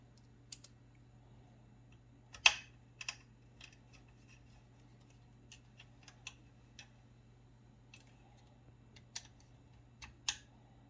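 Screws on a Stern Godzilla Premium pinball machine being driven in loosely by hand with a screwdriver, heard as a scattered series of faint, sharp clicks and ticks over a steady low hum, with quiet pauses in between.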